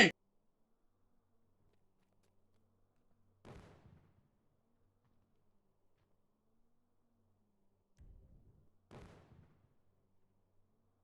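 Explosions in a GTA game play out as a few muffled, distant booms spaced several seconds apart, each decaying quickly into near silence.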